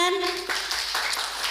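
Seminar audience applause, a dense patter of many hands clapping that follows a brief bit of speech at the start.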